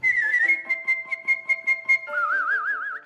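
Close, clear whistling resonated through the nasal cavity: a sustained tone with rapid rhythmic articulations for about two seconds, then a lower held note with wide, even vibrato to the end.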